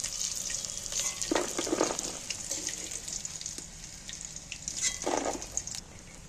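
Pakoras fry in hot oil with a constant bubbling sizzle, broken by a couple of brief scraping bursts as pieces are lifted out to drain.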